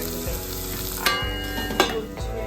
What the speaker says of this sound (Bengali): গোল গোল করে এরকম করে উচ্ছেটাকে ভাজতে হয়